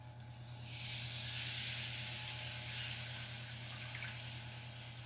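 About 1.5 cups of chicken broth pouring into a hot pan of cooked flour, a broad steaming hiss that swells and then holds steady, fairly quiet.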